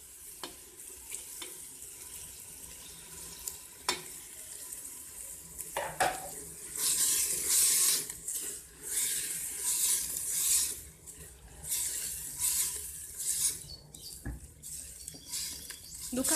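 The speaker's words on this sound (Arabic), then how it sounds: "هنايا بعد ما دبلت مليح لهذاك البصل راهي رايحه تضيف له حبه الطماطم" Onions softened in a pan with tomato added, frying with a steady sizzle and occasional stirring scrapes and clinks of utensil against the pan, moderately close, no talking.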